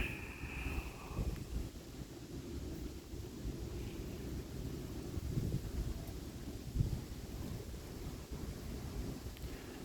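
Steady evening wind near the Dnipro River rumbles and rushes across the microphone throughout, a low continuous buffeting with slight swells and no voices.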